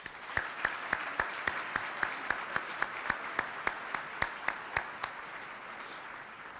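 An audience at a business luncheon applauds in a rhythmic, unison clap about three times per second, moderately loud and steady, fading out near the end.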